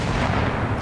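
A grenade blast in the survival video game Rust, a loud, dense low rumbling boom filling the whole moment with no voices over it.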